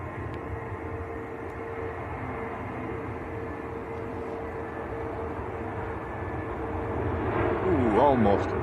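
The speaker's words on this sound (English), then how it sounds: "The other British Airways is on the roll." A British Airways airliner on its takeoff roll at Manchester Airport gives a distant, low engine rumble that slowly builds toward the end, with a voice talking over it.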